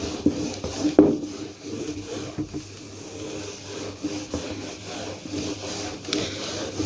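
A board is being erased after a math problem in a classroom lesson, producing irregular scrubbing and rubbing strokes of moderate loudness, with occasional small knocks, and no speech.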